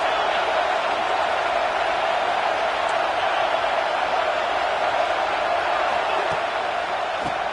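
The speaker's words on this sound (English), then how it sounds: "This crowd is trying to inspire this defense to make a big red zone stop." Football stadium crowd roars steadily to fire up the defense before a red zone stand, a dense, sustained wash of distant cheering with no single voice standing out.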